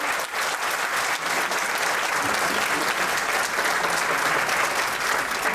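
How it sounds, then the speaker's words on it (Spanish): A conference audience applauding the participants at a session of talks, with dense, steady clapping from many people throughout, loud and sustained. "les pido un fuerte aplauso para los participantes."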